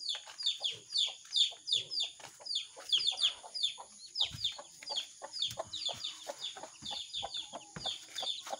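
A hen clucks steadily while feeding her chicks, her low clucks mixed with a dense stream of high, rapid peeping from the chicks, close and continuous throughout.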